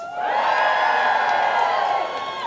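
Kindergarten teachers in a crowd at a New Zealand joint strike rally give a loud, sustained cheer of many overlapping voices whooping together, steady throughout before easing slightly at the end.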